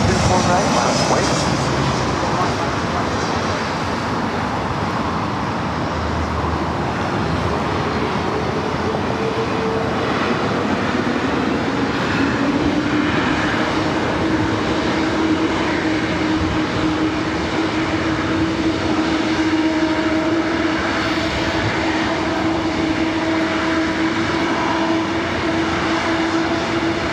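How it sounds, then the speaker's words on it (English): A Turkish Airlines Boeing 777 passing over downtown Los Angeles gives a broad, steady jet roar, loud and sustained, with a slowly shifting engine tone and faint radio chatter underneath. "Turkish 777 just over downtown Los Angeles."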